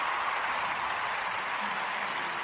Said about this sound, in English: I'm putting a little round of applause in there.